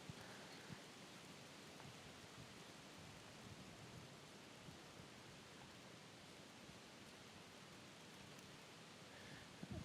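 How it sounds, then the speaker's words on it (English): Rain falls steadily on an outdoor disc golf course during a tournament round, a faint, even hiss of drops that continues unbroken with no voices over it. "I believe you can hear some rain falling at this point"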